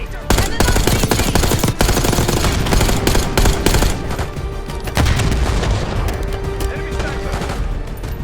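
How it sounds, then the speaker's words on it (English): Dense gunfire and blasts in the Call of Duty: Black Ops 6 story campaign after a thrown grenade, loud and continuous for the whole stretch with sharp booming bursts and faint voices mixed in. "Tossing grenade."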